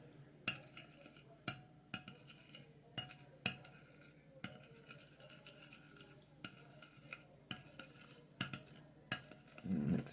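Scrambled eggs mixed with mayonnaise being stirred in a bowl, a utensil scraping and clinking against the sides in a steady repeated rhythm, quiet and close.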